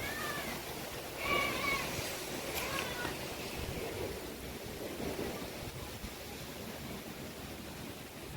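Rain falls as steady broadband hiss throughout, with a cat meowing briefly near the start and a faint voice in the background.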